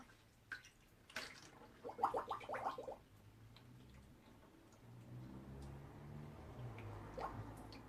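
Water from a van shower drips and splutters into a waste water pipe, with scattered ticks and squishy drops early on that give way to a soft, steady gurgling drain.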